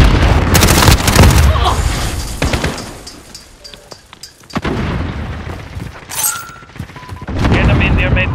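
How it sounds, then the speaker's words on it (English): Grenade explosion and gunfire in Call of Duty: Modern Warfare, with several booming blasts and bursts of shots in quick succession, loud and close, then a quieter stretch before more shooting, with voices talking over the action. "Grenade out! Grenade out!"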